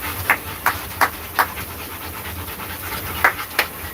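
A dog pants in quick, regular bursts, the breaths standing out clearly over a steady low background hum.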